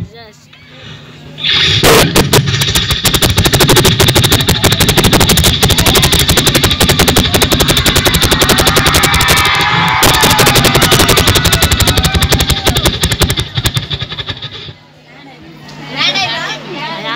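A voice mimics a helicopter in flight with a loud, rapid chopping rotor beat that runs for about twelve seconds, rising over faint room murmur and fading out at the end.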